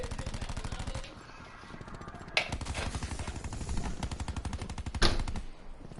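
Rapid automatic gunfire in a PS4 video game, with sustained bursts of fast, regular shots close and loud and a couple of sharper blasts.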